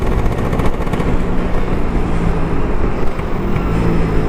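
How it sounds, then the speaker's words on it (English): Vespa PX scooter fitted with a Pinasco 251 two-stroke single-cylinder engine, a loud, steady, raspy engine drone held close throughout with no talk. "It's got like a motocross type ring to the engine, but being a 250cc single cylinder two-stroke"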